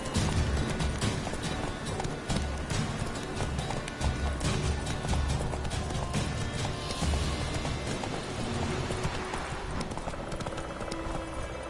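A horse galloping in a PS4 video game, a steady rapid clip-clop of hooves over a continuous dense background of game sound, loud and close throughout, no talking.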